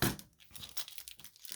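A plastic package holding Tensha beads crinkles as it is handled and opened, close and quiet, with short irregular crackling bursts.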